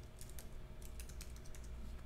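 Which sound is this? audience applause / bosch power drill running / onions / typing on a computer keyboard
typing on a computer keyboard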